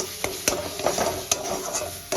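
Spices for palak paneer being stirred and sautéed in a pan, with a soft sizzle under repeated sharp scrapes and clinks of a spoon against the metal, several distinct hits spaced irregularly, close and alone.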